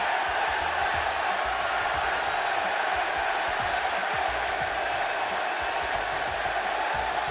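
A packed WWE arena crowd roars without pause for AJ Styles' surprise entrance, a loud continuous wash of cheering and screaming that fills the whole stretch.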